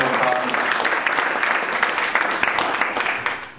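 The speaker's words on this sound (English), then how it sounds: "let's give a big round of applause to Matthew Growney" An audience applauds Matthew Growney after his talk, a full, steady round of clapping with a few voices underneath, tapering off after about three and a half seconds.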